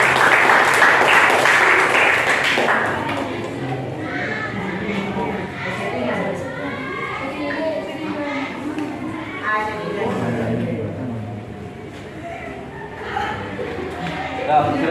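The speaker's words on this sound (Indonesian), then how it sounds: "kita beri tepuk tangan untuk kelompok 2" Classroom applause for a student group about to present, a loud burst of clapping for roughly two seconds that fades as people begin talking.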